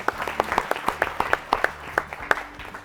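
Studio audience at a quiz show claps for a team, a short run of distinct, fairly close handclaps at an uneven pace over a low background hum.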